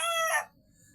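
A single short chicken call, a loud nasal squawk close by, cut off abruptly and followed by quiet.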